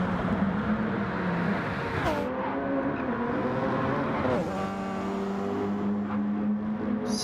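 An Audi R18 2016 LMP1 race car in Gran Turismo 7 at Le Mans roars continuously at high revs, its engine pitch climbing and dropping through gear shifts.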